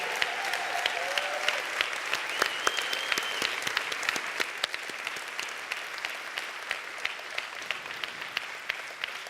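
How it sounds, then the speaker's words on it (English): Sustained applause from a large audience at a business summit in Europe, a dense, even wash of clapping that stays loud and steady throughout with a brief voice early on. "please, a big applause to Mr. László Kocsó and to Mr. István Böckös"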